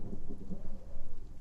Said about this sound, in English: You are just inundated with the sounds of thunder and loud, very heavy rain and wind coming from outside this door.